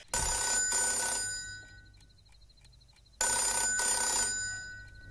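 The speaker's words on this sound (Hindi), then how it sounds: "फोन उठाओ ना। किसका फोन है?" A telephone rings loudly in two bursts of trilling bell, separated by a couple of seconds of near silence.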